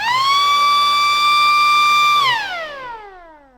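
Aftermarket electric horn bought from Amazon, sounded on a Land Rover Defender L663: one loud, steady, siren-like tone held for about two seconds, then dropping in pitch as it winds down.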